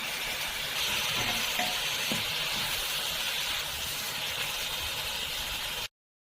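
Tomatoes frying in a pan with ginger and garlic give off a steady, close sizzle with light stirring scrapes throughout, then cut off abruptly near the end.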